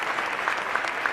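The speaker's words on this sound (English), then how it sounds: "Let's give yourselves a round of applause as well." Steady applause from an audience at a school opening event in Syracuse, a dense, even wash of clapping that holds at moderate loudness without a break.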